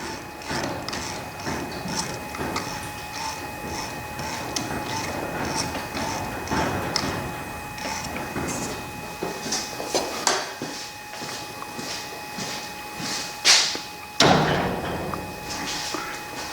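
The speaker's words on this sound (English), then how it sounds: "It's actually pulling the garage door up, I guess." Genie 7055 garage door opener hauling a door upward, a quiet mechanical run of rhythmic clicks and ratcheting taps with a few louder thumps near the end.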